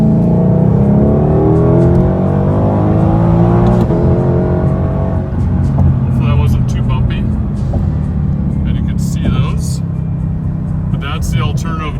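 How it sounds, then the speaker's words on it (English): A 2020 Shelby GT500 downshifts and accelerates, its engine note rising in pitch as revs build, with a shift break partway through, under someone talking over the car's sound. "I'll downshift a second and give it some gas"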